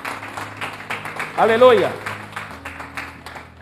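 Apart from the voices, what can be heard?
church congregation applause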